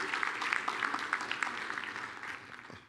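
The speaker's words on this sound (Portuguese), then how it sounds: "un fuerte aplauso para Henry" A room full of people applauds steadily to welcome the speaker Henry at a technical talk on IPv6-only delivery with NAT64, a dense wash of clapping that fades slightly toward the end.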